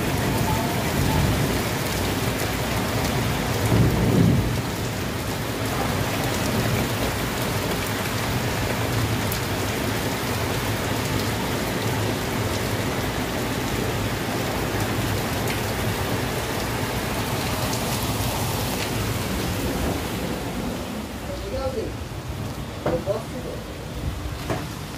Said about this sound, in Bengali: বুঝতেই পারছেন কি জোরে বৃষ্টিটা আসছে।